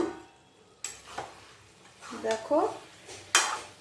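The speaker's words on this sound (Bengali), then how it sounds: "এবারে ঢাকনাটা উঠিয়ে দেখি কি হলো।" A lid comes off a pot of damdaar paneer with bottle gourd, giving a sharp metallic clatter followed by a few clinks and scrapes of cookware, with a short spoken word in between.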